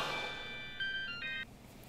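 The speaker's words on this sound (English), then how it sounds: "Nice ringtone." A phone ringtone plays a short electronic melody of bright tones, two quick phrases over a quiet room with faint background noise.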